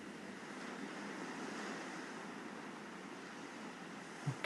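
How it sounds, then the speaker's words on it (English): Sea waves wash steadily back and forth along the shore in a soft, continuous, fairly distant surge, heard alone with a brief low thump at the very end. "listening to the sound of the waves moving back and forth onto the sea"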